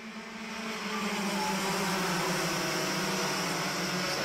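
Rotax Max racing karts rolling out of the final corner into the start grid, engines droning steadily and rising as revs build, a loud continuous buzzing mass of small two-stroke motors with no pauses.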